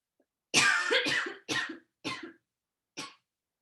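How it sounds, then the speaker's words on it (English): A person coughs in a short burst, then three more separate coughs spaced out, close and clear against silence. "Coughing if you need to. Totally cool. Happens."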